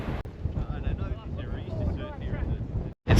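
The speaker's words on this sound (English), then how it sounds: "It's so windy." Strong gusting wind on a beach near Hamlin Bay buffets the microphone with a low, roaring rumble throughout, a voice faintly mixed in, then a sudden brief dropout near the end.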